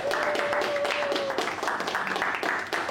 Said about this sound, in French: Je pense que vous pouvez juste vous applaudir pour tout ce que vous avez fait sur ce premier semestre-là.